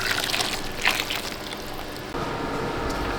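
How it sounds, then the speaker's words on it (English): Warm honey sriracha glaze pours into a bowl, a short wet trickling stream with a small splash midway, fairly close and with no talking. "And we're going to pour this into our bowl."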